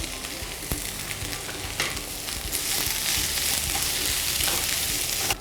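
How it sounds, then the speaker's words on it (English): Onions and capsicum sizzle in a hot pan over low to medium heat, a steady close crackle and hiss with occasional stirring clicks, no talking. "the onions and the capsicum have been roasting for about good 5 minutes"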